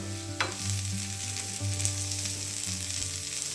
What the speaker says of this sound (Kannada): 2 ಈರುಳ್ಳಿಯನ್ನು ಕಟ್ ಮಾಡಿ ಇಟ್ಕೊಂಡಿರೋದನ್ನ ಹಾಕ್ಕೊಂಡು ಫ್ರೈ ಮಾಡ್ಕೊಳ್ತಾ ಇದ್ದೀನಿ